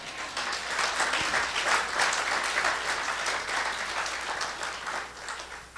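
A church congregation applauds and cheers in praise, producing steady, dense clapping that fills the room at a loud, even level for several seconds.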